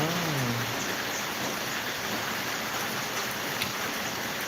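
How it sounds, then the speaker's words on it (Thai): Steady rain falls with a dense, even hiss that holds at a constant level throughout, with no talking. "ฝนตกบ้างครับ"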